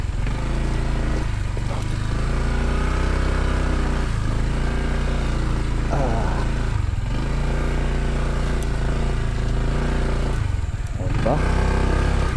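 A motorcycle on a slippery road to a church, traction control switched off, engine droning loud and close, revving and surging as the rear wheel slides, with people talking over it.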